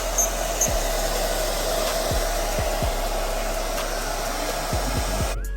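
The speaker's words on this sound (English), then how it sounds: "you wanna blow dry like this" A hair dryer blows steadily on a barbershop client's hair after a high taper cut with locs, a constant close whooshing drone with no talking.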